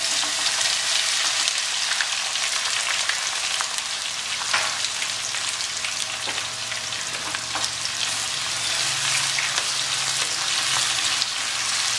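Chopped onions frying in a pan for a spicy chicken curry, a steady close sizzle and crackle of hot oil with occasional stirring scrapes running throughout, no talking.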